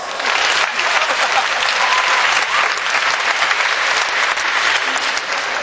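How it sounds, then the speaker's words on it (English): A dense, sustained round of audience applause after a rope knot magic trick, loud and even from start to finish with no talking over it. "Give me another round of applause."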